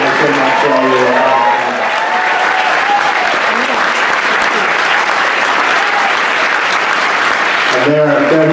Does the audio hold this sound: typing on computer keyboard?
no